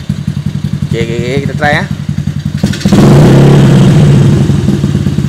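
An LCV8 motorcycle engine idles with a steady rhythmic putter while someone talks over it, then is revved hard into a loud, sustained roar that eases slightly toward the end.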